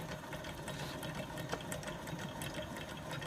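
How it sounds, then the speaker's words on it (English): A small hot air engine with a curved spoke flywheel runs steadily, giving a faint, even mechanical whir with light rhythmic ticking and no voices. "And nice curved spoke flywheel, and it just runs nicely."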